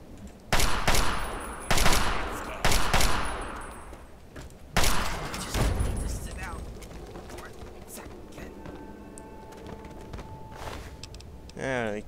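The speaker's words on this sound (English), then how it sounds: "Are you shooting at more corpses? Yes, you are." Gunfire in Fallout 3: four or five sharp, loud shots crack out at irregular intervals in the first five seconds, each followed by a decaying echo, then fainter mechanical clicks and rattles follow.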